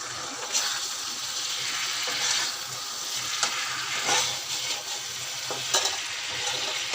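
Fish hit a frying pan of fried potatoes and sizzle loudly up close, a continuous hiss broken by a few sharper crackles and spatters.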